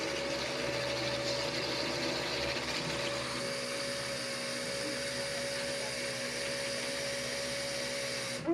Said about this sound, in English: touch a fuel pump wire to power, and it should turn the fuel pump on back there